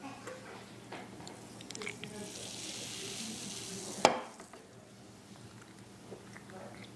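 Ginger ale is poured into a tiny cup, a soft fizzing hiss building for a couple of seconds before a sharp clink, then quiet with low background murmur.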